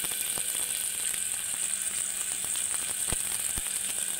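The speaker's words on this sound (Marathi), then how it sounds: "तर पटकन सगळ्यात आधी आपण तेल गरम झाले, कांदा टाकून घ्यायचा।" A handful of chopped onion sizzles in hot oil in a pan for a cauliflower and pea dish, a steady, even crackle with a few sharp clicks and no voices.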